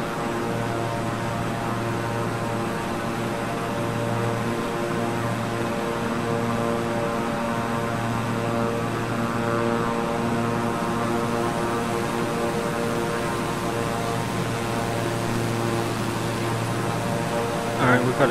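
Beechcraft King Air 350i twin turboprop engines in Microsoft Flight Simulator, a steady droning hum and propeller whine under climbing thrust, continuous and even throughout, with a voice talking over it.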